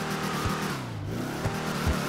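A light blue car in GTA 5 Online revs its engine in a rising and falling growl, up close and steady, with no talking over it.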